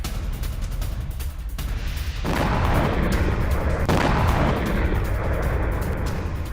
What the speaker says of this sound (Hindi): रूसी D-20 तोप पर यूक्रेनी ड्रोन स्ट्राइक हो गई।